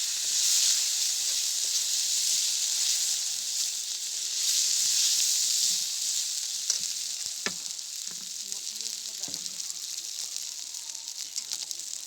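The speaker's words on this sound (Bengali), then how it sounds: "আর এবার সবকিছু একসঙ্গে ভালো করে কষিয়ে নিচ্ছে।" Vegetables with chili and coriander powder sautéing in a pan, a steady loud sizzle throughout with occasional scraping stirs toward the end, close up and without talk.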